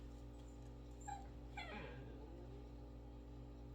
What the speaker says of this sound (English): that would be my dog whining